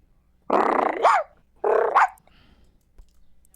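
A voice imitates a dog with two rough, close growl-barks, each about half a second long, over a quiet background.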